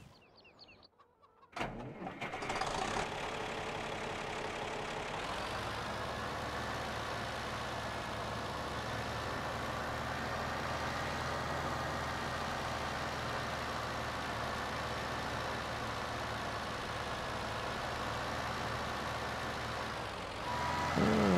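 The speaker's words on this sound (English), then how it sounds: "GMC dump truck. Perfect." GMC dump truck idling in a farming simulator game, a steady low engine drone that holds continuously and fairly loud after a brief quiet start, with no talk over it.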